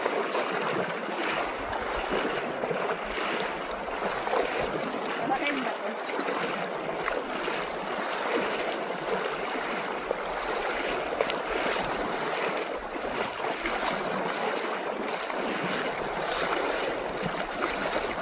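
Steady rushing water of a fast-flowing river current, strong and narrowing like a canal, flows throughout, a broad continuous wash with some wind-like noise, constant and fairly close.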